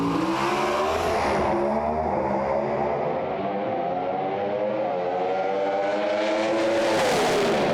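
Pontiac Pro Stock drag racing car roaring down the strip at Sydney Dragway, a loud sustained engine wail that climbs in pitch through gear changes across the whole run, with no voices over it.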